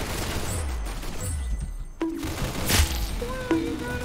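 Gunshots from a Glock in a video game, a few sharp cracks with brief tonal game effects, heard amid background game sounds and some talk.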